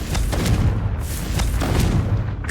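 In Hogwarts Legacy, the Confringo spell bursts with repeated booming explosions, heavy low rumbles overlapping with sharp cracks across the whole stretch, loud and close with no talk.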